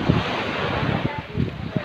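Sea waves wash onto a beach in Bohol, a steady broadband rush with wind buffeting the microphone; close and fairly loud, with faint voices in the background.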